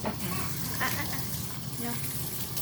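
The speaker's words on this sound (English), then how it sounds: "you want to drink it right out of the faucet" A bathroom faucet runs during a Cockapoo puppy's bath, a steady, close broadband hiss of flowing water lasting the whole moment.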